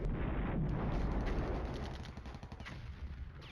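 Heavy artillery fire in the Cold War tank wargame Flashpoint Campaigns: Germany Reforged, loud rumbling blasts densest at the start, then easing into a lower, crackling roll of distant impacts.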